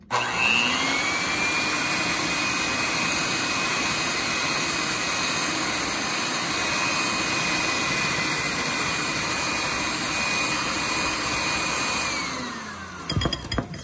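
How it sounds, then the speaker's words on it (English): An electric mixer whipping dalgona matcha on its lowest setting, a loud, steady whirring drone with a high motor whine that holds nearly unchanged before winding down and stopping at the end. "I'm going to put the mixer down on its lowest level"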